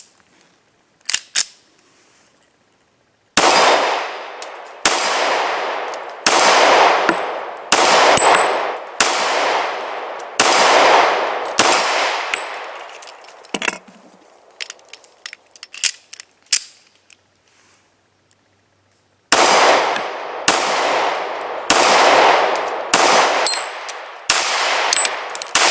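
Kimber Ultra Carry II .45 ACP pistol fired in two strings of loud, evenly paced shots, seven in the first and five in the second, with faint clinks and handling noises during the pause between them.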